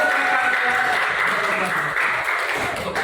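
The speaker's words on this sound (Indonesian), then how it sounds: "Ayo tepuk tangan dulu." A classroom group claps steadily and briskly for three seconds after a student presentation, a dense continuous patter of hands close by.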